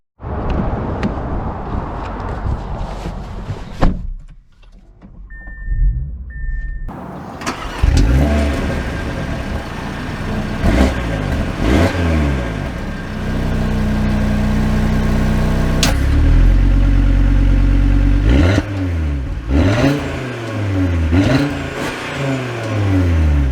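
A 2023 Audi RS3 engine cranks, falls quiet briefly, then fires up and settles into a loud close idle before repeated sharp revs rise and fall, with no voices over it.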